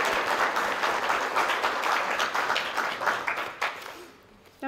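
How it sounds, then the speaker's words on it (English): Audience at a book event on Southern Black chefs gives a round of clapping that fades out over a few seconds, ending in near quiet with a brief voice. "let's clap for them"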